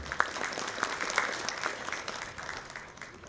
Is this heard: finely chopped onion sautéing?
no